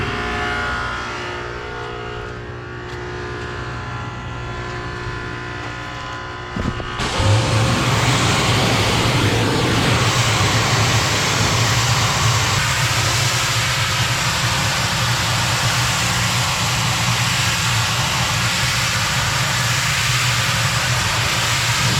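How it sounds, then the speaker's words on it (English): A pressure washer sprays the hood of a stripped-down International 880 truck, starting abruptly as a loud, steady broadband hiss that holds for the rest of the clip. A low engine rumble runs beneath it. "Let me turn the washer on and we'll hit the hood a little bit"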